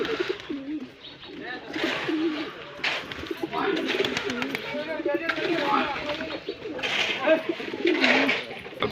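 Pigeons, including a white pair, coo steadily in a loft, a soft, continuous rolling murmur of several birds close by.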